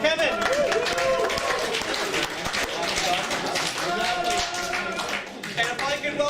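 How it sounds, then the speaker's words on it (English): Applause for Kevin from an audience at a senior open house, steady clapping filling the room with voices and cheering mixed in throughout. "Can I get a really big round of applause for Kevin?"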